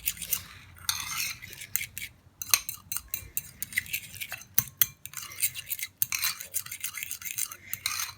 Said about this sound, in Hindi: और अब हम इसमें डालेंगे शहद, हाफ टेबल स्पून, और इसे मिक्स करेंगे